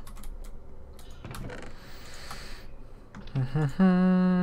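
A computer keyboard struck hard in quick bursts of sharp clacks, followed by a brief voice-like sound and a sustained electronic tone near the end.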